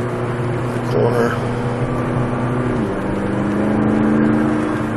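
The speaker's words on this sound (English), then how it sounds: "So this turbocharged engine, obviously," A turbocharged engine in a 2016 McLaren 570S Coupe accelerates hard: a steady, loud drone with a clear pitch shift partway through, heard from inside the car.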